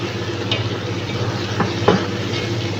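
Food being stirred in a cooking pan, a few soft scraping strokes over a steady low hum and faint sizzle, close by with no talk.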